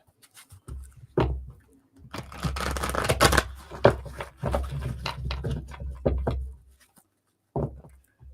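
A deck of cards is shuffled in a few uneven bursts of riffling and soft patter, held a little away from the listener with short pauses between.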